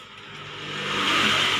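A 2020 Honda Beat scooter engine revs up close by, building steadily in loudness over a second and a half to a strong rising whine, with no talk over it.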